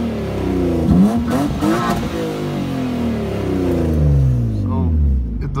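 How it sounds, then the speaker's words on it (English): A BMW E36 M3 with a stanced setup revving hard, the engine note climbing and falling through several throttle blips, loud and close, with a person's voice heard over it. "I'll rev it up for you a little bit."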